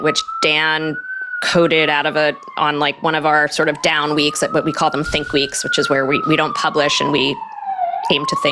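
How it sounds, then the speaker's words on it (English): A fire department siren wails steadily in a city street in the West Village, its rising and falling tone running beneath continuous close speech from a person talking. "sorry about the siren in the background."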